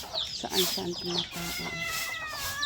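Backyard pet chickens at a simple rural home cluck in short, repeated bursts nearby, while a person talks over them throughout.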